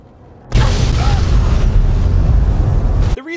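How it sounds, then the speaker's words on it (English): A nuclear-powered car blows up in the Fallout 3 video game: one sudden, loud, close explosion that roars steadily for nearly three seconds, then cuts off abruptly, with no talk over it. "those cars that are scattered everywhere in Fallout 3 that have an explosion way bigger than they have any business having"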